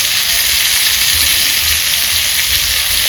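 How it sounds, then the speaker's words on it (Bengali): Small bata fish sizzles with potato, aubergine and radish as it is sautéed with salt and turmeric for a jhal curry. The frying hiss is steady, loud and close, with no speech. "এটাকে ভালো করে আমি কষিয়ে দেবো"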